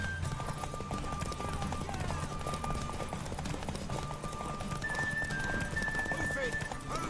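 A horse's hooves clip-clop rhythmically in the video game The Witcher 3, with occasional whinnies and steady background ambience, while characters talk over the galloping.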